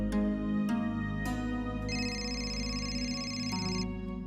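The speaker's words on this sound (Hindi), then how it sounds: "ये किसका फोन है, इतना रात गए।" Phone ringing late at night in a home, a tonal ringtone with repeated bright chimes and a sustained melodic tone, fairly close and moderately loud, alone without talk.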